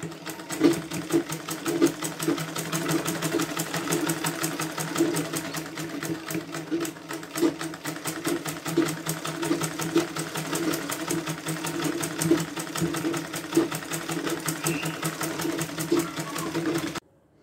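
A sewing machine runs steadily, stitching a crochet-style dress. Its fast, even mechanical chatter holds for the whole stretch with no pauses, close and fairly loud, and no one talks over it.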